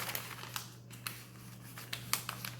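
Parchment paper crinkles and rustles as butter is rolled into a log for compound butter, irregular soft crackles and taps close by over a low steady hum, faint with no talk.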